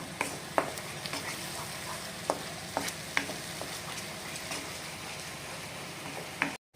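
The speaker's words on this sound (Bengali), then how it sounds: "আর এখনও এটা আদা রসুনটা ভালো করে কষিয়ে নেব।" Ginger and garlic paste sautés in a pan for a shol fish lanka pora, a soft continuous frying hiss broken by sharp, irregular spatula scrapes and taps against the metal.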